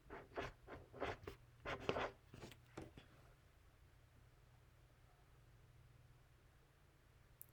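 Pencil writing on paper, a run of several quick scratchy strokes at close range over the first three seconds, then only faint room hiss with no voices.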